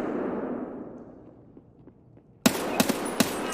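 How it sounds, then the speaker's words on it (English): Gunfire in the shooter game Escape From Tarkov, including shots through walls, with a few sharp loud reports close together near the end after a quiet stretch of fading background noise. "why does he keep shooting me through walls?"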